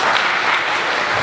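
Audience applause fills a hall at the Tic Summit 2024 finals, a dense, steady wash of many hands clapping at once, loud and close, with no voices over it.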